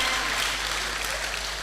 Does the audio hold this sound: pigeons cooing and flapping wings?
no